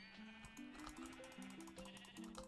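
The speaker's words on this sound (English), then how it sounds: "Shoot the sheep, guys. Shoot the sheep." Sheep bleat in a Minecraft Hypixel minigame, several short wavering calls overlapping in quick succession, loud and close over busy game noise.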